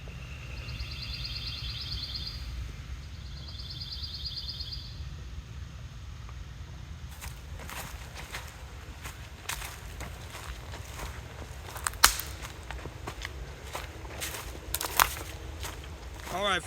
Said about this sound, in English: That is the sound of a quiet path in some woods near Goodview, Virginia.